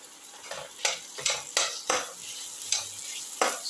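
Tomato pieces stirred through a sizzling onion and ginger mixture in a pan for a tomato casserole, with repeated scraping strokes of a spoon over a steady, moderate fry, no voices.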